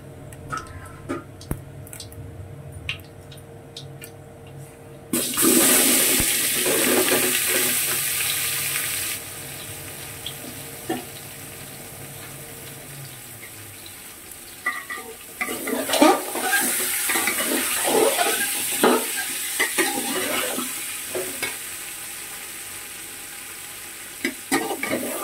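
Mango pieces drop into hot oil tempering for homemade mango pickle, setting off a loud burst of sizzling that fades, then spoon stirring scrapes and clatters through the frying, close and without talk.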